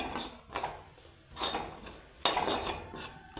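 Metal spoon scraping and clinking against a pan as coconut is stirred and roasted, in repeated short strokes every second or so, close and clear with no talk.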